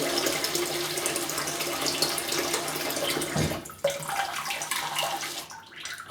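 Water runs steadily from a tap as a shaving brush is wetted, a continuous near hiss that briefly dips and drops out about halfway before resuming.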